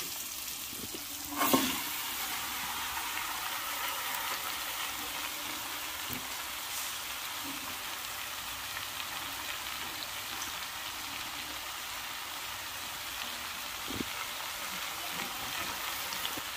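Bottle gourd pieces hit hot oil tempered with nigella seeds, giving a steady close sizzle with a sharp burst as they drop in and a few clinks of stirring, no voices.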